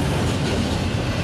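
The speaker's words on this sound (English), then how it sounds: "the train was going to be a decent long one from Columber" A long freight train rolls past up close on the Pemberville and Willard subdivision, a loud, steady roar of rumbling wheels and rattling cars with no pauses and no voices.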